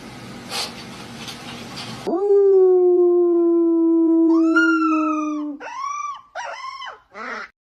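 A dog lets out one long, loud sustained howl close by, then breaks into several shorter rising howls and yips; a person talks briefly before it starts.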